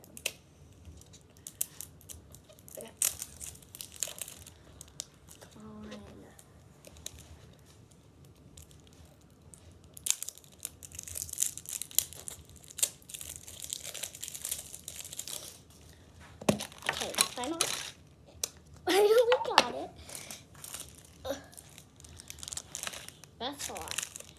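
Packaging from a mini verse diner and cafe series is torn open from the bottom. Scattered crinkles and rips come in bursts, with a few louder tearing strokes near the end and someone talking in between.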